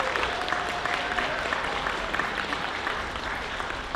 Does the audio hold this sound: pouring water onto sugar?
no